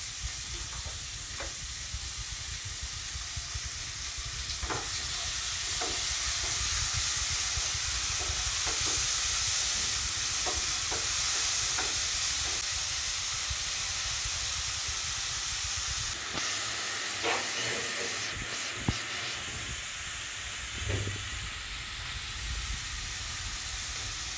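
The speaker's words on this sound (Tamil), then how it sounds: "இப்போ ஆனியனை நல்லா வதங்கிக்குது" Salted onions softening in a hot pan, a steady close hiss and sizzle running throughout with occasional scraping stirs and a louder clatter toward the end, no talking.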